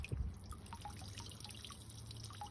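Irregular water drips plink one after another at close range, quiet and unsteady, over a low hum.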